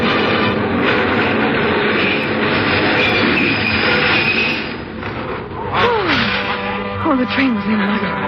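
A subway train arrives in a station in a 1947 radio drama, its loud rumble and rattle filling the space before brakes squeal in rising and falling wails as it slows, with a voice speaking over the noise toward the end.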